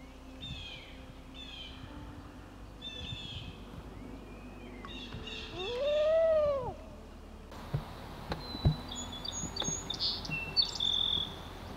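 Common loons call on a lake as visiting birds arrive, a rising and falling wail swelling loud around mid-clip amid scattered chirps and high bird notes, with outdoor ambience throughout.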